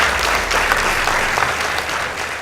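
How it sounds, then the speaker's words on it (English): An audience at a high school debate competition between Kiambu High School and Alliance Girls High School breaks into loud, continuous applause, steady dense clapping with no pause for the full length. "Please give them a warm round of applause"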